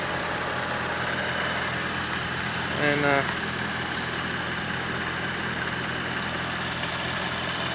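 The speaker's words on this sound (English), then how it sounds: "We have a very interesting BMW engine." A 2013 BMW 535i turbo engine idles under an open hood with a steady, even low hum running throughout, while a voice briefly speaks midway over it.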